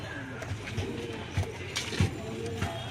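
Pigeons coo in soft, low, repeated bursts, a few throaty pulses close by, while someone talks over them.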